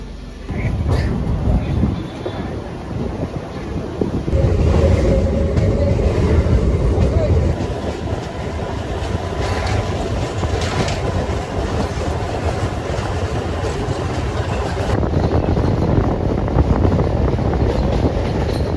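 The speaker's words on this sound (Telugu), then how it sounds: "అది మన ట్రైన్ అయితే స్టార్ట్ అయిపోయింది." A MEMU express train on the Kakinada to Vijayawada line pulls away and crosses the Godavari bridge, a loud, close, continuous rumble with rhythmic clickety-clack of wheels over rail joints throughout.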